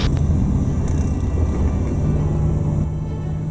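A seaplane on floats touches down on water, heard as a loud, steady low engine drone and rumble from inside the cabin that eases slightly near the end.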